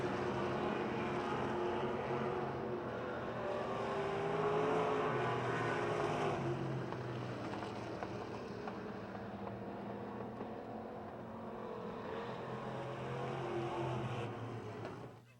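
Race cars roar out of turn four at Pennsylvania Motor Speedway near Pittsburgh, a dense, sustained engine drone that swells and sweeps past, loud and continuous throughout.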